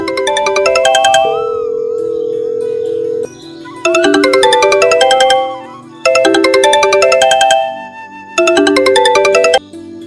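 A phone on loudspeaker rings while a call is placed, a loud electronic ringtone repeating in four bursts of rapid chiming notes separated by brief pauses, close and clear.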